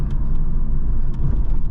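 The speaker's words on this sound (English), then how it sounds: "such a great sounding engine and great sounding exhaust" A 1996 Camaro SS engine and exhaust rumble steadily while driving, a deep continuous low drone heard from inside the car, loud with no talking.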